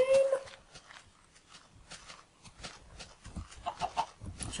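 Chickens in the video game Minecraft clucking in a few short, soft bursts over scattered game noise and faint movement sounds, with no talking.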